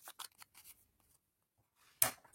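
Scissors cutting paper for a beginner's mini album, a few quick crisp snips early on, then quiet, then one sharp louder cut near the end, close by and with no talk.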